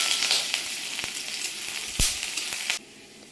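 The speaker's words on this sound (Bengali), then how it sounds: "তারপরে কড়াতে তেল দিয়ে শুকনো লঙ্কা আর এখানে আমি পেঁয়াজ ফোড়নের জন্য পেঁয়াজ দিয়েছি।" Onions and dried red chilies fry in hot oil in a wok, a steady close sizzle with a few sharp stirring clicks. It cuts off abruptly near the end.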